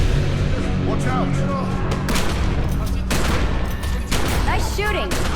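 Heavy gunfire erupts in the video game The Secret World, with dense overlapping volleys and sharp bursts. Characters shout over the shooting.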